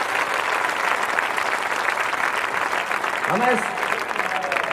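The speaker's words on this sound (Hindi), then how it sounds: "इनके लिए जरा एक बार जोरदार तालियां बजाएं" An audience at a Hindi comedy poetry gathering claps loudly for soldiers standing guard, a thick continuous patter of applause while a voice speaks briefly over it.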